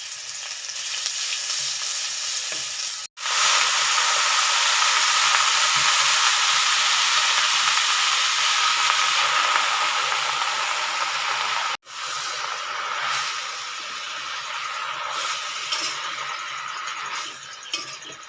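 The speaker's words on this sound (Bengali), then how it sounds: "তো চলো এরপর আমি রসুনের পেস্টটা দিয়ে দিই।" Garlic paste and chillies fry with greens in a hot pan, a loud steady sizzle and hiss held for many seconds, broken by two brief silences and occasional light stirring clinks.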